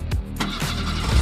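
A tractor engine starting up in a farming video game, a quick cranking burst that catches into a steady mid-pitched running drone, loud and close with no talk.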